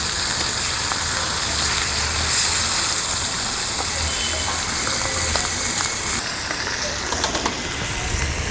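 Pieces of rui fish fry in hot oil in a pan, giving a steady, loud sizzling hiss like heavy rain that holds throughout with no talk.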